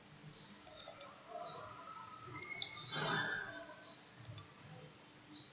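A computer mouse clicks a few times, with sharp, faint single and double clicks spaced apart, close by in a quiet room with a low background hiss.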